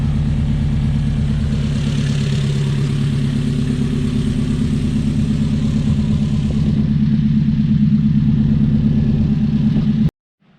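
A 1969 Opel GT engine idles steadily at about 1100 RPM while warming up after a cold start, a loud, close, even low rumble that runs alone for ten seconds before cutting off abruptly.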